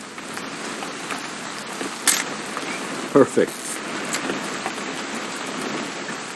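Steady rain falls in a video game scene, a constant soft hiss of drops with a few brief louder knocks and clatters, and a voice speaks briefly over it.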